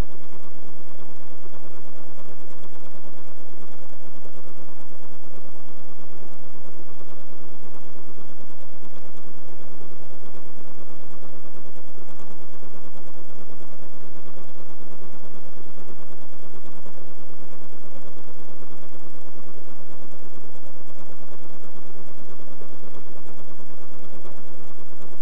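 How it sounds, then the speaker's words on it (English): A Pfaff creative 1475 CD sewing machine embroiders lettering in a steady, loud mechanical whir with a rapid needle rhythm that runs continuously throughout and is heard up close with no talking. "I only want to sew it once, so I'll engage the single pattern key. Touch the memory key, and we're ready to sew. I'll sew my name now."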